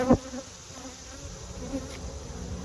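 Honey bees buzz around an opened hive being consolidated, a continuous close drone with a sharp knock at the start and individual bees droning past, steady and moderately loud with no talk.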